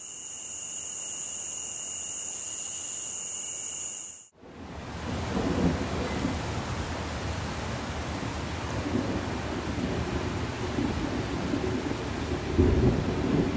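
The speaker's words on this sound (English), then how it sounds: "a storm of unknown potential pushed us out of the boundary waters early on our last day" Steady rain and rolling thunder from a storm over the Boundary Waters wilderness lakes; a dense wash of rainfall dominates, with deep rumbles building and swelling toward the end, preceded by a short stretch of other steady sound.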